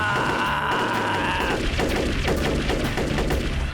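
Cartoon gunfire set off by pressing a fire button, a loud rapid burst of repeated shots that continues steadily, following a brief electronic tone at the start.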